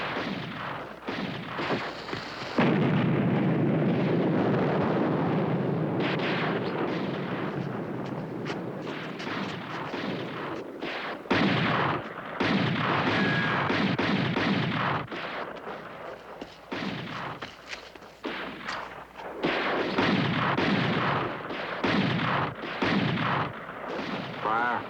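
Artillery guns fire again and again in a Disney film scene, sending out loud booming blasts and heavy rumbling that go on for the whole stretch with short gaps between them.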